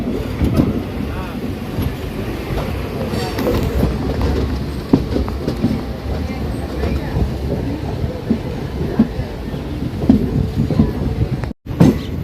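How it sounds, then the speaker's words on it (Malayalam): A passenger train rolls along the track after leaving Madurai Junction, with a loud steady rumble, rhythmic wheel clatter and occasional knocks, close and continuous, with faint talk underneath. "നമ്മളെ വണ്ടി ഇതാ അങ്ങനെ പോവുകയാണ്."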